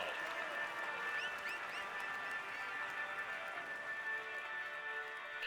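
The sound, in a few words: crowd applauding at Tour de France podium ceremony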